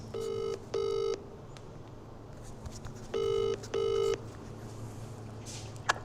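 Telephone keypad tones beep as a call is dialled during a live prize draw, with four clear steady tones in two pairs separated by a pause over a low background hum. A faint click comes near the end.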